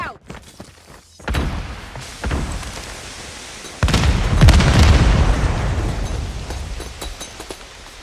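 A frag grenade goes off in a competitive video game playoff match: a loud, rumbling boom that swells suddenly and fades slowly, after a stretch of quieter game noise.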